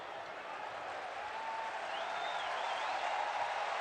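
A large crowd at a 2006 Nevada versus Hawaii college football game roars and applauds steadily late in the fourth quarter, a dense, constant wash of cheering and clapping with faint whistles above it.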